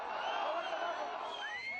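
Crowds in Tehran cheer a returning delegation, a brief wash of massed voices and whoops heard at a distance.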